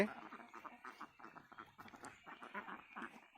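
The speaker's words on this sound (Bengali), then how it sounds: "আমার এই ডিমের হাঁস" About ten-month-old egg-laying ducks quack in a rapid, irregular series of short nasal calls, quiet and somewhat distant, with no talking.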